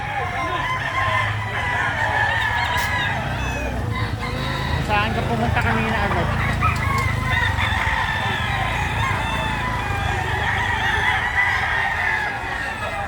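Native chickens cluck and a rooster crows amid a busy outdoor backdrop, with people chatting nearby over the constant bird noise.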